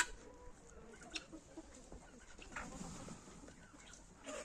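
Hens, including laying Marans, cluck softly and intermittently in the background, quiet and somewhat distant, with faint farmyard ambience.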